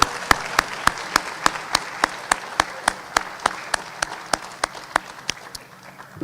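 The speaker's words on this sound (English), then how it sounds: "can we get one more round of applause for all our students in recognition tonight?" Rhythmic unison clapping at a school academic awards ceremony honoring students, sharp evenly spaced claps about three per second over a low crowd murmur, tapering off at the end.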